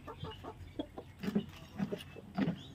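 Several chickens clucking while eating azolla feed, a series of soft, irregular clucks close by against a faint background, with no talking.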